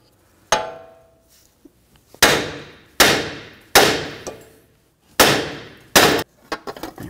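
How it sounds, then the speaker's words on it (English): Six sharp metallic hammer strikes on a rear wheel bearing and hub of a 2013-2015 Chevrolet Malibu, spaced irregularly with short ringing decays, ending in a few lighter clinks; close and loud, no talking. "you can lightly tap on it with a hammer"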